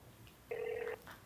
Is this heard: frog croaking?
no